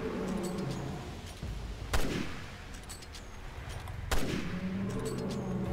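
Two loud gunshots ring out a couple of seconds apart in the survival horror video game Resident Evil Revelations 2, each a sharp crack with a short echoing tail over steady game ambience.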